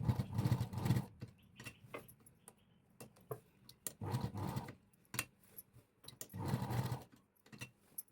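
A sewing machine stitching a boat neck blouse runs in three short bursts of rapid whirring, separated by quiet pauses with soft ticks and handling clicks, recorded close but at low volume.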